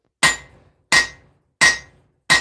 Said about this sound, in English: Let's get it forged out. We're just trying to clean up these hammer marks